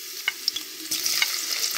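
Garlic sizzles and crackles in hot oil, a soft frying hiss that swells partway through, broken by a few faint stirring clinks.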